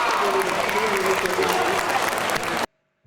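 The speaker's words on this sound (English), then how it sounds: "What are we clapping at?" Audience clapping among spectators at a Formula 1 race at Silverstone, a dense continuous patter of hands under some speech before it cuts off abruptly into silence.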